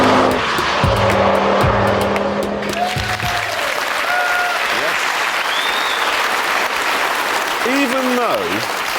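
A 2005 Ford Focus ST Mk2 is driven on a soaking wet race track, its engine note rising and falling over constant loud road and spray noise, with tire squeal and shifting pitch as it works through corners.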